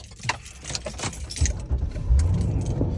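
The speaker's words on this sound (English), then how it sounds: "Let me move my car." Keys jangle and a car door and engine stir as a parked car is about to be moved, with rustling and handling noises close by and no talk.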